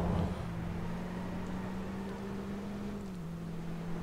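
A tactical pickup truck in the Watch Dogs video game drives with a low, steady engine hum that holds one pitch and dips slightly near the end. The sound is faint, and no one talks over it.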